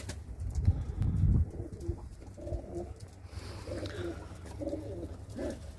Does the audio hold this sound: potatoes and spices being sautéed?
no